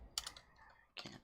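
Quick bursts of clacking on a computer keyboard, two short clusters of keystrokes separated by a pause, close and fairly quiet.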